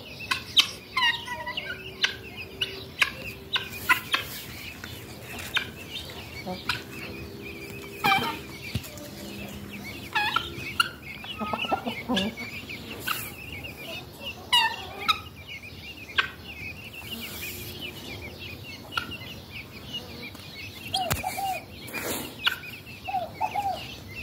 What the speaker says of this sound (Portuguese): Os pintinhos e as galinhas.